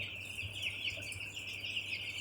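A crowded flock of 15-day-old broiler chickens chirps and clucks continuously, a dense steady chorus heard from a short distance.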